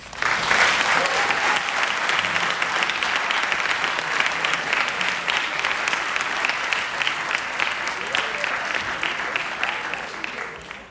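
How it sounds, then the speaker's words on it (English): Sustained, dense applause from an audience at a Model UN closing ceremony honouring best delegates, steady and full for several seconds before tapering off at the end. "Could we please give them a round of applause?"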